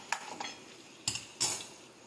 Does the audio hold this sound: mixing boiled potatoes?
yes